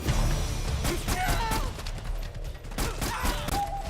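Suppressing gunfire in the Metal Gear Solid 4 video game rattles in dense, loud bursts with crashes and thuds, plus a brief voice in the middle of the fighting.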